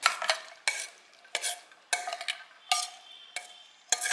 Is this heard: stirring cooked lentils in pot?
yes